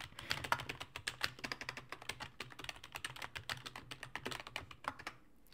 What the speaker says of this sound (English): You can hear me loud typing into the microphone.